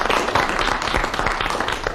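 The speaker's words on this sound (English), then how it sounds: "If so, will you please clap?" A studio audience claps steadily to vote on whether a panel game challenge was justified, a dense even wash of hands lasting throughout with no voices over it.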